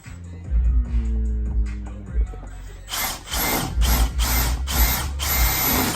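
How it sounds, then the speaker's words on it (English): A power drill revs in short bursts, then bites into material with a loud, grinding whir that pulses several times, drilling holes to install a car's front splitter or rear diffuser. "if I drill this one"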